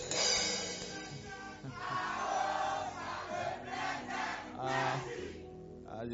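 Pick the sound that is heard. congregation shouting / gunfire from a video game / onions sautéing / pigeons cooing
congregation shouting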